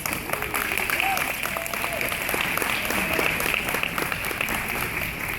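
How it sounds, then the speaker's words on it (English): Crowd applauding at a lion dance event, steady clapping from many people sustained throughout, with a voice talking faintly underneath. "let's give a round of applause to all those folks"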